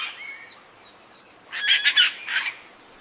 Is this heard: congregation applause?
no